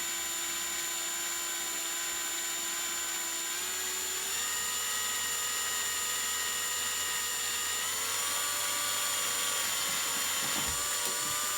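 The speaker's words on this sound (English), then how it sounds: "So we'll drill away." A power drill bores a pilot hole while building a DIY low-profile XLR connector, a steady high whine that slowly rises in pitch as the motor speeds up, close and continuous.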